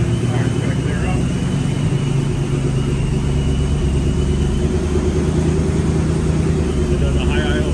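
A supercharged 2020 Ford Mustang GT idles at high revs with a dense, steady rumble up close, then begins settling toward a lower idle, with a voice speaking faintly over it.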